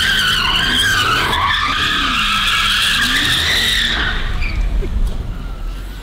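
A car does a burnout against a shipping container, its tires squealing loudly and continuously for several seconds up close over a roaring engine, then fading off at the end.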